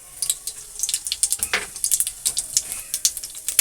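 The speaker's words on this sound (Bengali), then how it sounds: "এখন আমি দিলাম সর্ষার তেল তারপরে দিচ্ছি একটু কালো জিরে" Nigella seeds drop into hot mustard oil and give a crackling sizzle of fast, bright pops and spits close by. They are being fried for a winter prawn and radish chorchori.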